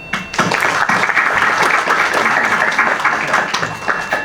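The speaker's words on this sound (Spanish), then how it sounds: "recibamos a Cecilia con un aplauso" Loud, sustained applause fills a lecture hall as an audience at a talk on prison and criminal policy welcomes Cecilia, many hands clapping densely and evenly from start to finish.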